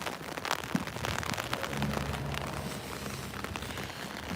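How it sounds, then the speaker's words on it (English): Steady moderate-to-heavy cold rain falls continuously, a dense broadband hiss of drops on surfaces with a few low rumbles beneath, holding an even level throughout with no voices. "this is actually a downpour now. It's raining at a pretty good clip."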